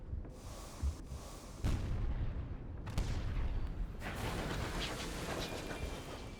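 Guns fired from a flying train in the game Sunless Skies, several heavy booming shots at irregular intervals, each followed by a rumbling decay, loud and with no talk over them.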